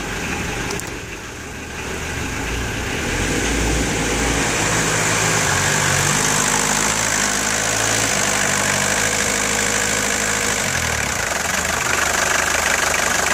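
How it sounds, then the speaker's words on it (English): AAZ diesel engine idling with the high idle pulled out, a steady rough knocking hum that rises in pitch and loudness after a couple of seconds and then holds evenly; close by, no talking. "Got the high idle pulled out"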